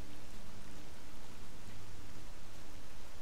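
Steady rainfall in the S.T.A.L.K.E.R. game world during foggy weather, an even, continuous hiss of falling rain with no breaks or other sounds.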